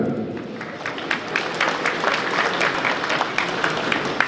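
Colleagues at a Ukrainian business fund event applaud, steady dense clapping from a room full of people, moderately loud and sustained throughout.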